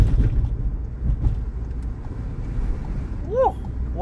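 A VW Golf 7 GTI Performance makes a quick U-turn on a twisty mountain pass, its engine a low steady rumble under wind buffeting, with a short tire squeal near the end.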